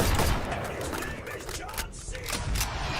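Rapid gunfire bursts from a shooter video game crackle through the clip, dense and continuous, mixed under players' voice chat.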